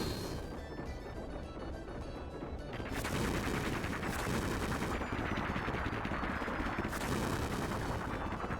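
Rapid continuous gunfire in Final Fantasy 7 aimed at a passing blimp's propeller, a dense loud rattling barrage that intensifies after a few seconds and keeps pounding without pause.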